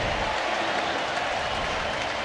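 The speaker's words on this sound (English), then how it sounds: "And there's the big roar of the crowd." Baseball crowd roaring after a strikeout at an Angels–Reds game, a dense sustained wash of cheering and applause throughout.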